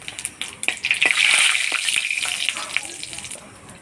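Dried red chillies, bay leaves and whole cumin hit hot oil for a chicken curry tempering, giving a bright, hissing sizzle that swells after about a second and holds steady, with a few crackles and pops throughout.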